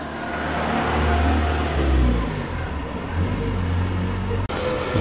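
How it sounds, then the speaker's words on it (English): A bright white Porsche 944 at a classic car show gives off a steady, low engine drone with a slight swell in revs. The sound stays close and loud, with outdoor ambience around it. "Bright white Porsche 944."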